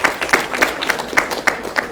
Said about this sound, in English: And a round of applause to all of you who survived this weekend.